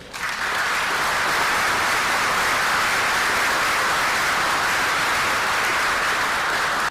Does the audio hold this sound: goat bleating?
no